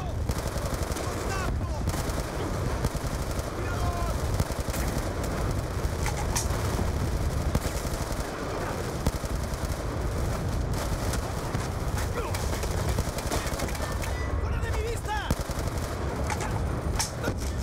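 Dense, sustained gunfire in Call of Duty: Black Ops II roars continuously with bursts of automatic fire and scattered shots, loud and close, mixed with chaotic battle noise.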